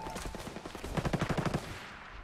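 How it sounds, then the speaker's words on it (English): Enemy gunfire in a freight yard video game match, a faint distant rapid burst of shots in a quick rhythmic string. "I'm hearing enemy fire."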